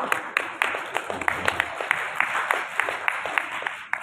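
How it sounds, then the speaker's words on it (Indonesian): Audience applause at an Islamic community gathering for Quran recitation, a dense, steady patter of many hands for about four seconds with sharper claps poking through a continuous roar. "tepuk tangan monggo"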